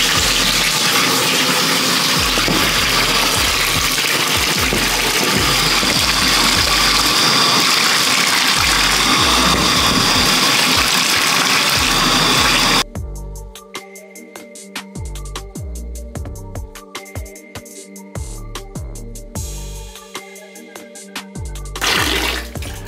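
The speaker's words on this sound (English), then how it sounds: "I'm just gonna rinse this out." Running water rinses out hair in a loud, steady stream close to the mic, and the flow then breaks into choppier splashing and dripping.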